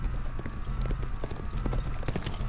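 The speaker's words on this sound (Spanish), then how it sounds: "Francisco hizo que su caballo avanzara lo más rápido que pudiera" Galloping horse hooves used as a sound effect in a narrated horror tale, a fast rhythmic clip-clop over a rumbling background, steady and fairly loud without speech.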